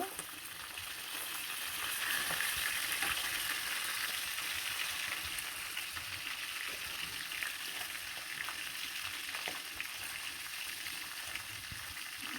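A river karku fish head frying in hot oil in a pan, a steady soft sizzle that runs unbroken and fairly quiet, with no talking.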